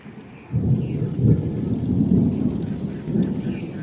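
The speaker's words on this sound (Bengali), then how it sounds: "কিভাবে বৃষ্টি ডাকতেছে?" Thunder rolls in a low, sustained rumble during rain in a rural village, swelling early and holding loud for several seconds over a wash of rainfall.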